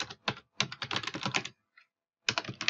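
Fingers tap quickly on a computer keyboard while a note is typed into a notes app, crisp clustered keystrokes in two bursts separated by a short pause, close and clear with no talking.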